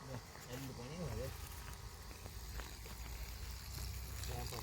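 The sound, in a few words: water pumped from a well by 12-volt battery motor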